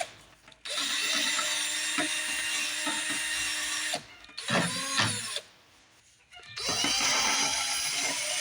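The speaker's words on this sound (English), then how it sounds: "I kind of like to try to use this little wire brush doodad to do that with" A small wire brush spun by a power tool scrubs a part from a vintage Jacobsen push mower, giving a steady loud whirring grind that runs for several seconds, breaks off briefly and restarts with rattling contact noise.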